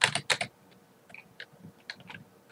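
Short bursts of keystrokes on a computer keyboard while entering DOS-style commands for Daggerfall, a quick flurry of clicks at the start and then sparser single taps, close and fairly quiet.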